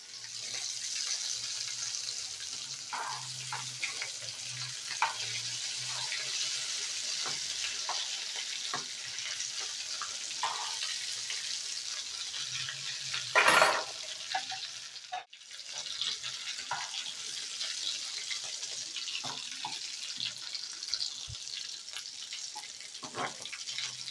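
Potato chips frying in hot oil, a sustained bubbling sizzle with intermittent scraping and clinks of a utensil, one brief louder burst midway, heard close with no talking.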